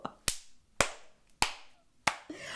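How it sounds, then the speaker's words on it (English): Four sharp, separate hand claps spaced about half a second apart, close and fairly loud, each ringing out briefly before the next, with no talk over them. "I had to stop and clap at that"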